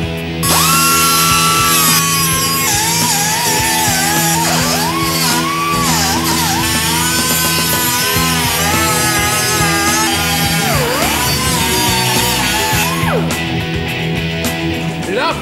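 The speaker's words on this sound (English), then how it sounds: "Now I'm going to cut it off with a combination of using a small grinder, this tool, which is fantastic" A small grinder cuts through an old car body panel with a loud, continuous whine whose pitch sags and recovers as the disc bites into the metal.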